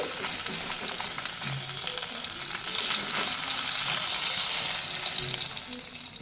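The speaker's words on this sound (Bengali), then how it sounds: "একটু হালকা করে ভেজে নিলাম মাছের পিসগুলোকে" Rohu fish pieces fry lightly in oil with a steady, close hiss and sizzle that holds throughout, along with faint clinks and soft splashy movement underneath.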